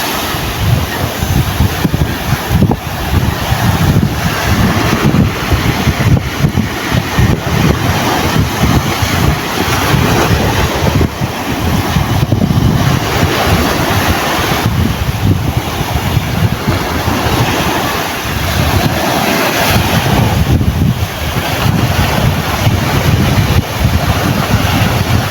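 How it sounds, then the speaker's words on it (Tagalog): Sea waves wash in continuously at a clean, green-watered beach, a steady rushing surf with gusty wind buffeting the microphone throughout, loud and close with no voices. "Kaso may alon-alon."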